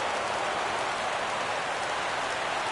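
A stadium crowd in a baseball video game on PS4 sends up a dense, steady roar that holds at an even level throughout, with no talk over it.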